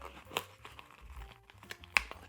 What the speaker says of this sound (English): So we'll tear this off.